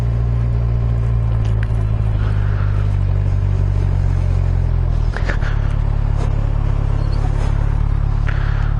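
A 2017 Kawasaki Z1000SX motorcycle rides along a coastal road in Northern Ireland, giving a steady, loud, low engine drone with constant wind and road rumble and a brief dip in the middle.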